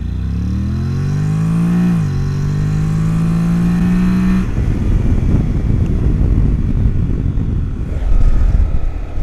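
Honda NC750X DCT motorcycle from 2019 accelerating hard from 0 to 100 km/h in manual mode, its engine note rising steadily, dipping once at a gear change, then giving way to loud rushing road and wind noise.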